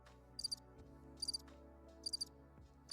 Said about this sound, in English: Sorry, there were crickets.